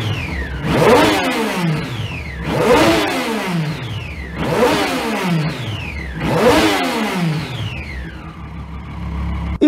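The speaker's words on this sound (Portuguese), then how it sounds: "E se liga só o ronco da motoca, esse escapamento original fazendo um ronco sensacional." A 2009 Triumph Daytona 675 motorcycle with its original exhaust is revved hard four times in a row, close up. Each rev climbs in a sharp rising whine and then drops back to a rumbling idle.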